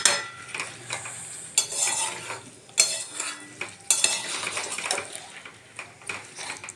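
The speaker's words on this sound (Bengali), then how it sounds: "খুব ভালো করে এবার এটাকে নাড়াচাড়া করতে হবে যতক্ষণ না মাংসটা একটু কষা কষা না হচ্ছে ততক্ষণ" Yogurt-marinated meat and potatoes are stirred in a pan, a quiet sizzle punctuated by irregular scraping strokes and clinks of a spoon against the metal, several distinct bursts recurring close by, with no speech.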